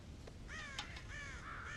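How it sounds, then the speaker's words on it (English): Crows in the Western game Red Dead Redemption caw several times in a row, harsh, raspy calls that are fairly close and clear against a quiet outdoor background, with no talking. "God damn crows!"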